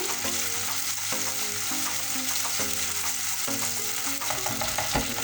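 Food fries in a pan with a continuous loud sizzle and regular stirring scrapes, close up, with no talking.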